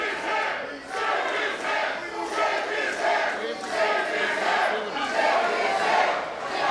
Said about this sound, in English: you can hear the crowd here in Foxborough showing their appreciation and admiration for both of these men.